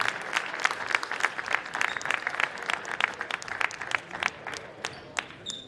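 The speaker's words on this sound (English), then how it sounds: "Have a nice round of applause for all our Bobcat seniors." A crowd claps for the senior players at a high school boys' basketball game, a dense, steady round of applause in a gym that carries on throughout without any talk.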